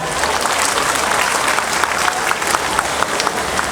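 A crowd applauds steadily at a light-and-sound show at a temple in Nakhon Sawan, Thailand, a dense wash of clapping from many hands that continues without a break.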